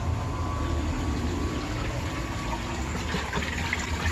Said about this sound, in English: drain in the tank with the pond pump